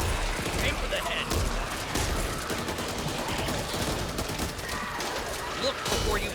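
Rapid gunfire from the Back 4 Blood video game, dense bursts and booms filling the whole stretch at steady loud level, with players' voices talking over the shooting.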